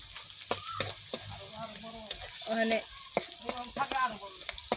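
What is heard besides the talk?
onions frying in a pan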